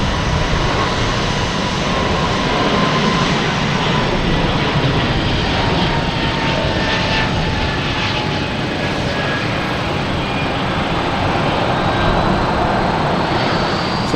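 Airbus A380 jet at Boston Logan Airport, a steady, loud broadband engine roar that holds evenly throughout with no break or voices.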